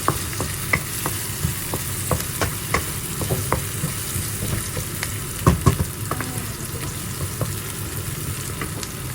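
Vegetables, after garlic and onion, sizzle steadily in a hot pan while a utensil stirs and scrapes with irregular clicks and taps, close and continuous.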